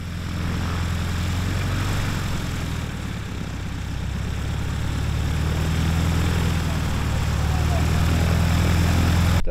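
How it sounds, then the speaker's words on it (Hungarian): A French-made RF-5 light aircraft's propeller engine drones steadily and loudly throughout, a continuous low hum that swells slightly toward the end, with people talking over it. "Ez a repülőgép egy RF-5-ös, francia gyártású"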